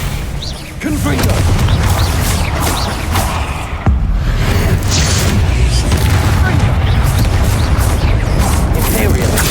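Confringo blasting spell explosions from Hogwarts Legacy, heavy booming bursts that fill the whole stretch, loud and dense, with a sharp blast near the middle and speech mixed into the chaos.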